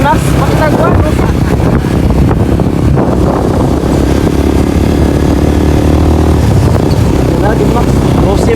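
A Yamaha NMAX scooter engine drones steadily while riding, with heavy wind rush over the microphone throughout; loud and close, no clear speech.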